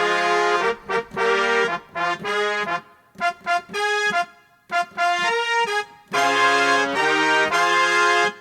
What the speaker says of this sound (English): you can literally turn on the gig brass here and it'll sound like this